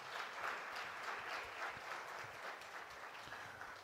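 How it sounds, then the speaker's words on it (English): Steady, even applause from the audience at a conference gala dinner, a moderate crowd of hands clapping continuously at a distance, fairly quiet overall. "Maybe we can give him another round of applause."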